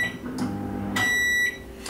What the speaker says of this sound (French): je vais mettre ça donc au micro-ondes à peu près 30 secondes voire 45 secondes